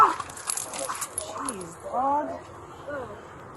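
A dog whimpers and whines in a series of rising and falling cries, close by, with some rattling and movement around it as the dog flails while being held by the neck.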